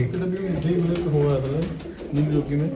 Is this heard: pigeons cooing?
yes